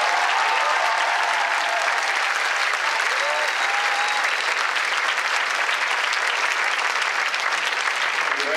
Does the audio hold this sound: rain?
no